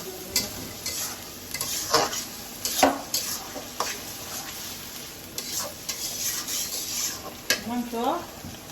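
Meat khichuri cooks in a wok while a spatula stirs it in repeated rhythmic scrapes over a continuous sizzle, the strokes close and fairly loud.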